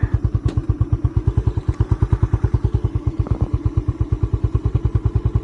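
A Skygo Boss 150 motorcycle engine idles low and uneven, its idle turned down, its steady rapid thumping pulses chugging close by without any revving.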